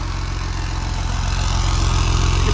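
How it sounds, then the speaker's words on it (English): A BMW E36 328i idles with a suspected exhaust leak toward the rear, giving a close, rapid, regular low pulsing chuff that grows slightly louder partway through, with no voices over it. "I think it's an exhaust leak."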